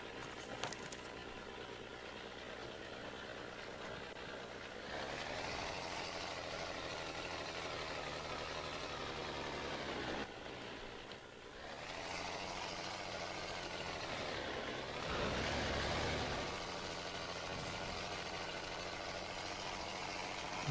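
A Jeep's engine drones steadily in the off-road game Spintires, a low, rough hum that surges and dips a few times as it drives, faint and alone, with no talking.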